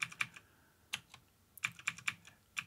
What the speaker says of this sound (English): When I see an image I like, I hit the W key and I use the arrow keys to move on to other images.